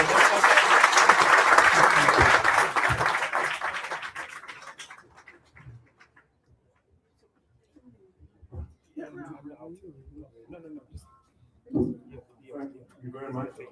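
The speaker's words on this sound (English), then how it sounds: "A round of applause for our panelists." An audience at a Bank of Ghana roundtable discussion applauds the panelists, a loud wash of clapping that fades out over about five seconds, followed by a pause and then people talking.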